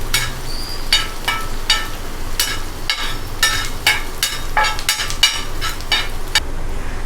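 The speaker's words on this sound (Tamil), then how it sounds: "ஆனியன் ஆட் பண்ணிவிட்டு நல்லா ஸ்டீர் பண்ணி விடுங்க." Onions frying on an iron tawa and stirred with a spatula, heard as steady, rhythmic scraping strokes over a low sizzle, close and fairly loud.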